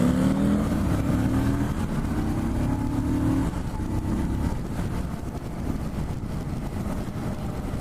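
A 2018 Harley-Davidson Street Rod motorcycle engine under way, its droning exhaust note rising briefly then settling into a steady rumble mixed with wind noise, close and continuous with no talk.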